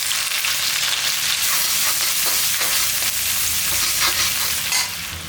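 Onions crackle and sizzle steadily in hot oil, a loud, continuous frying hiss with no talking.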